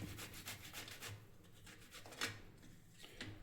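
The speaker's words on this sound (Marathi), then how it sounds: "आता आपण जे दोन बटाटे उकडून घेतलेत ते थोडे किसून घ्यायचे" Boiled potatoes rubbed against a grater for potato paratha, a series of soft rhythmic rasping strokes, close but quiet, with no talking.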